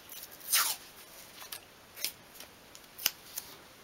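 Masking tape is torn off the roll for a small 1/12th scale log basket craft, giving several short, dry rasping tears, close and fairly faint, with quiet pauses between them.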